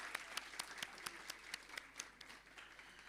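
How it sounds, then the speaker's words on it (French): An audience applauds quietly, with a steady patter of clapping from a modest crowd and a few sharper claps standing out, heard alone without talking. "On l'applaudit."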